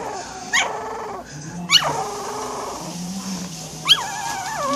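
A restless dog fusses and whimpers, with rising whines and yips over steady background noise. Three sharper cries stand out among the softer whimpering.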